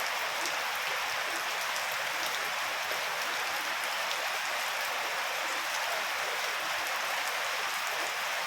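Torrential nighttime rain hisses and patters steadily on surfaces nearby, a dense, even downpour that never lets up, with no speech.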